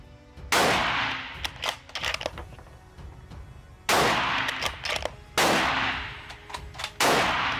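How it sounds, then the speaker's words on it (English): Three sharp, loud gunshots crack at an indoor pistol shooting range, spaced a few seconds apart at the shooter's own pace, each followed by a brief ringing echo and the clatter of ejected brass. "load and make ready, and then three rounds in your own pace"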